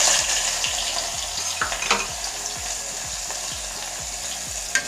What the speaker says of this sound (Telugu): నూనె వేడెక్కిన తర్వాత అందులో సన్నగా కట్ చేసుకున్న ఉల్లిపాయ ముక్కలు